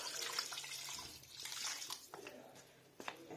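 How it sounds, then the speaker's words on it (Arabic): Ordinary tap water running and splashing into a cooking pot for a vegetable harira soup, a steady broadband rush with a few louder splashes, fairly close and on its own. "هانتوما غادي نروي بالماء، الماء عادي من الروبيني"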